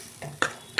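Prawns hit an ash gourd curry in a pan, giving three short sizzling, stirring bursts, each a quick sharp hiss over a quiet simmering background.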